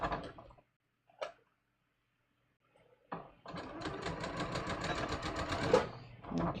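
A sewing machine runs in a steady, continuous mechanical whir for about three seconds stitching a garment facing, preceded by a few brief clicks and near-silence.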